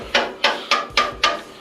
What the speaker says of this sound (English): Me and the homemade hammer, we're doing good here.